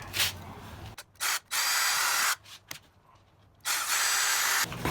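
Several short bursts from a power drill drilling holes for an intercooler install on a Volkswagen GTI MK7, close by: brief pulses, then a longer steady whir, a pause, and another sustained run.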